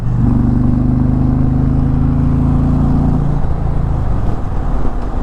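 A 2024 Indian Pursuit motorcycle pulls hard in sixth gear in sport mode on the highway, its engine a loud, steady low drone that holds, then drops in pitch as the throttle eases, under constant wind rush.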